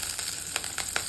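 Garlic sizzles in hot oil over medium heat for a ridge gourd chutney, a steady crackling hiss with a few sharper pops and stirring scrapes, close and alone.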